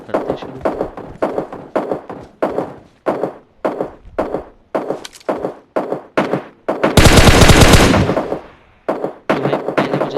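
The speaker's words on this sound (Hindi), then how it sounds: "तो मैं निकालता हूँ अपना स्नाइपर और फिर करते हैं शुरू।" Sniper rifle shots in the PUBG Mobile battle royale game, a long run of loud, sharp cracks about every half second, broken near the middle by a sustained burst of broadband noise before the shots resume.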